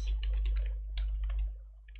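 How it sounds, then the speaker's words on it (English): Typing a terminal command in Kali Linux on a computer keyboard, a quick uneven run of close key clicks in short bursts over a steady low hum, with no talking. "Type sudo space apt hyphen"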